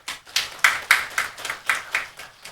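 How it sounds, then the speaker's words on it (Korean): A church congregation claps in a quick burst of about nine sharp claps, loud and close, with no talking over it. "박수 한번 쳐줘요."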